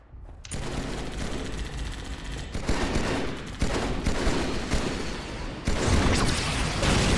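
Covering gunfire from the video game Halo 2 rattles in continuous dense bursts, loud and close, with louder cracks at a few points.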